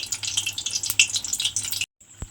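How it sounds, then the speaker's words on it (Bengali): Sweet mango pitha sizzles close up in hot oil in a pan, a busy, crackling fry that cuts off abruptly, followed by a single faint clink. "এইভাবে কিন্তু উল্টে পাল্টে একটু লাল করে ভেজে নিতে হবে।"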